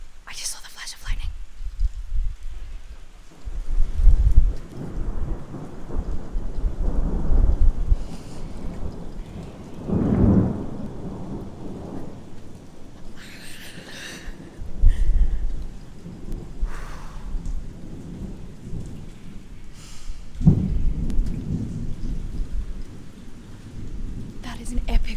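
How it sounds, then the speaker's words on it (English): Rolling thunder in a rainstorm, deep low rumbles swelling and fading in several long waves over steady rain, with quiet murmured talk between the peals. "That is an epic rolling thunder."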